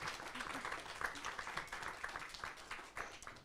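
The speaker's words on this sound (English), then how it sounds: "our audience will give you a little round of applause to say welcome" Audience at a university short film festival screening and Q&A giving a brief welcoming round of applause, steady, moderately loud clapping that runs throughout without a break.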